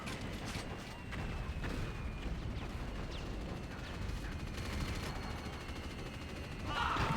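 Mortar blasts and rapid gunfire from a beach assault in an online arena match, a dense continuous battle din with scattered sharp cracks and a louder burst near the end.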